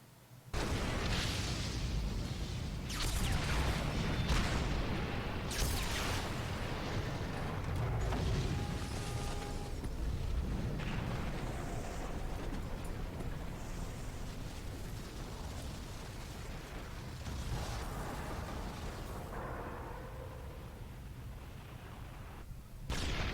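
Repeated booming explosions from the video game Xenoblade Chronicles 2 roll in as a series of broad rumbling bursts, fairly quiet overall, layered over one another with no talk.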